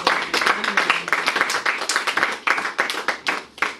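Church congregation clapping to acclaim Jesus during a French-language sermon on prayer: dense, steady hand claps from a crowd, close and lively, with no voices on top.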